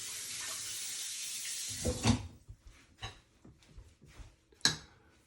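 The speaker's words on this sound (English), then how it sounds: "fill it up with water so it doesn't stick." Tap water runs steadily into a pot in a kitchen sink, then stops, followed by scattered clanks and knocks of the pot and sink, close and fairly loud with no speech.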